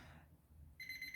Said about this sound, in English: My watch started to beep.